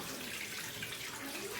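Water runs steadily from a tap into a sink while fish roe is washed, making a continuous close splashing hiss with no speech.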